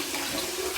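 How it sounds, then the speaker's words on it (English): Water running from a tap into a sink while wetting the face before shaving, a brief steady close hiss and splash. "Just wet the face and let's get going."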